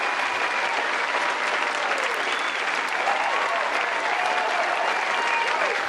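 Canned applause effect played during a podcast livestream, a steady, thick wash of crowd clapping that continues evenly for several seconds, with faint voices mixed in underneath.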